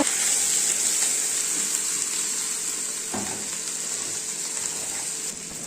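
Vegetables frying in a pan with a loud, constant hiss of hot oil, broken by an occasional stir near the middle, no talking.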